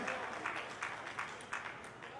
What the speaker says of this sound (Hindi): एक बार और तालियां बजाएं